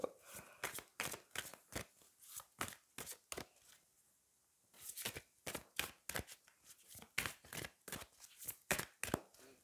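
A deck of angel oracle cards being shuffled up close, with rapid riffling bursts in a steady rhythm, a brief pause midway, then more shuffling, clear and alone without talk.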